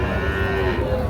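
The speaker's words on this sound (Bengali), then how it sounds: "এই যে এটা ষাঁড় বাচ্চা, শাহিওয়াল জাতের।" At the Ambari cattle market, a young Sahiwal bull calf lets out one steady, loud, drawn-out moo that lasts through the whole moment.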